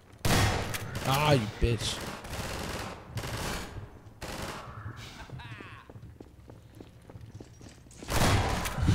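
Gunfire in the shooter video game Half-Life 2 comes in loud bursts of rapid shots, with a quieter run of single cracks midway. Someone talks briefly among the shots.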